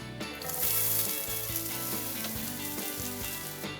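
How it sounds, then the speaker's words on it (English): A batch of vegetables dumped all at once into hot roasted peanut oil for an Indian stir fry, bursting into a loud, dense sizzle that settles into a steady crackling hiss. "we just dump all the vegetables in at one time"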